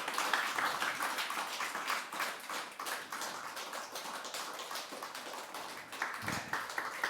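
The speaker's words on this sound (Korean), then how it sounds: "큰 박수로 격려해 주시기 바랍니다." A congregation applauds at a pastor's ordination thanksgiving service as the new minister is helped into his robe; dense, steady clapping fills the room from start to finish without a break.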